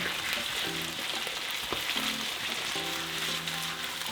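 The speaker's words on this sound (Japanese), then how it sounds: "じゃがいもを炒めててオリーブオイルが少し足りないなと思ったので足しました" Potatoes, onion and garlic fry in olive oil for a Spanish omelette, making a constant soft sizzle with occasional stirring clatter and tonal kitchen hums in the background.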